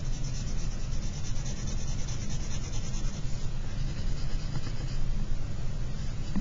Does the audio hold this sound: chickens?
no